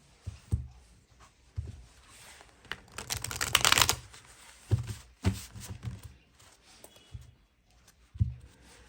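Tarot cards shuffled from a deck, soft irregular riffles and taps with one longer burst of flicking cards partway through.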